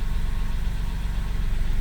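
A Porsche 997 idling with its engine still cold, a steady, loud, close low rumble with a slight rhythmic pulsing and no talk.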